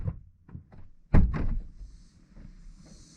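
A Toyota GR86/Subaru BRZ car door fitted with a GT-style door pull is opened and shut: soft latch clicks lead into a solid, close thunk as the door closes, then quiet settling noise.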